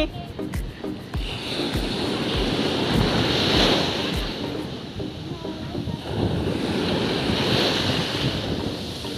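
Surf breaking on a sandy beach on a cool spring morning, with broad, continuous wave wash, strong wind buffeting the microphone, and faint voices nearby.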